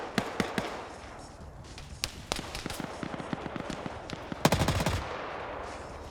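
A 12.7 mm heavy machine gun fires in a Soviet-Afghan War combat game, with several bursts of sharp, rapid shots at varying distances and a dense, loud volley near the end.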